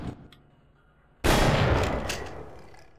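A sudden loud blast or gunshot from the Half-Life video game cracks out after a quiet stretch, with a long rumbling decay and a couple of faint follow-up impacts.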